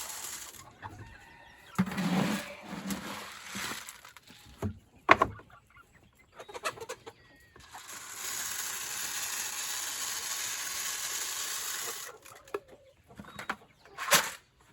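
Spring chickens out on pasture cluck softly while feeding from ground feed near covered feeding tubes, with intermittent metallic ratcheting and clanking bursts and a long stretch of steady hiss in the middle.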